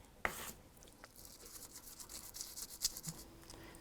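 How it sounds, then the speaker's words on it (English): A hand file rasping around the edge of a small metal back plate for a pendant, faint short scraping strokes close by in an otherwise quiet room. "I just need to file around the edge"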